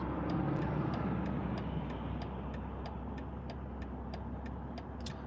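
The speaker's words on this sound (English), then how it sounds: "This is a 2022 BMW Z4" Steady engine drone and road rumble fill the cabin of a 2022 BMW Z4 M40i, continuous and even with a faint rhythmic ticking on top.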